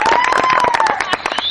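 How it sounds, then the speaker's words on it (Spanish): A small audience at an informal Spanish-language music session claps loudly, sharp individual hand claps in quick irregular bursts, close by, with a voice and a bright whistle-like tone sliding over the clapping. "Un aplauso fuerte."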